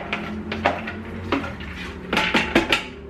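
Drained split peas tipped into a cooking pot, giving a few clattering knocks and scrapes of utensil against the pot with a louder cluster near the end, close and without talk.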